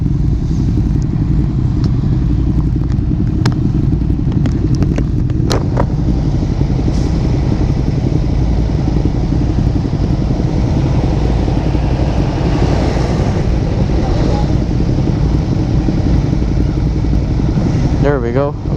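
A Ducati motorcycle fitted with aftermarket exhaust pipes rumbles loudly and continuously while riding on a road, its engine drone steady and close under heavy wind buffeting.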